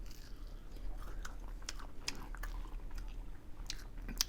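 Close, crisp crunching as a crispy Indian-style spicy quesadilla is chewed, with irregular bites and crackles over a low background hum.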